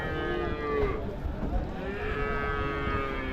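Calves and cattle tied up at a busy Friday cattle market in Uthangarai moo close by, one drawn-out bellow overlapping another against a murmur of market background.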